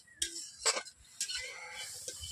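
Onion stalks being fried in a little oil in a pan, heard as scattered stirring scrapes and soft clinks with a light sizzle underneath, close and fairly quiet, no voices.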